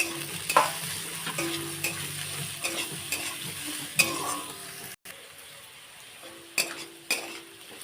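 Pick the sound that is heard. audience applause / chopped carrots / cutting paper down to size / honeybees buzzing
chopped carrots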